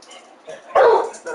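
A dog gives a short, close bark amid faint background noise, with a brief yip-like sound trailing after it.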